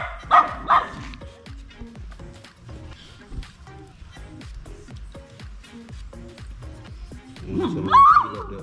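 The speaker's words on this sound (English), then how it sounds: "They don't want the dog over here." Dog barking outdoors by a river, several loud sharp barks and yips scattered over the stretch, with a person's voice speaking over them.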